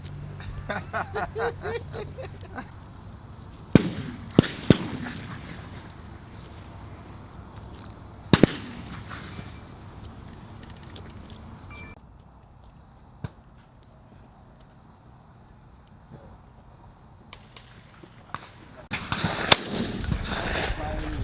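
Shotgun shots fired while dove hunting ring out in the open as several sharp, separate reports spread over the stretch, with a louder cluster near the end and faint outdoor background between them.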